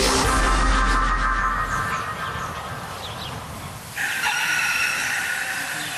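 A rooster crows loudly and close in a long drawn-out call, followed by a steady broad background wash, with no talking.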